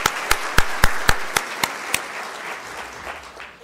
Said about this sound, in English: Let's give a round of applause for the recipients who received their Certificate of Merit.